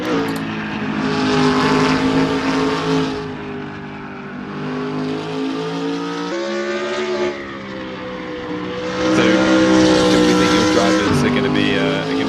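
A race car engine in a sim racing game roars and revs continuously, pitch rising and dropping through gear shifts, loud and close throughout, with someone talking over it.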